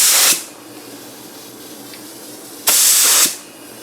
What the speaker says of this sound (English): I'm going to just spray a pattern of lacquer thinner on here